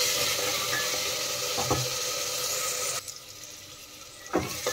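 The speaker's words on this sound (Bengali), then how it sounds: "আলুগুলো এখন একটু কষিয়ে নেব ভালো করে" Large-cut potato pieces fry in hot oil in a pan, a steady close sizzle with a couple of brief stirring clatters, and the sizzle softens partway through before another stir; no one speaks.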